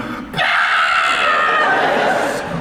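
A voice imitates a woman screaming in agonizing pain, a loud, sustained shrill wail held for about two seconds before cutting off, heard up close at a convention Q&A.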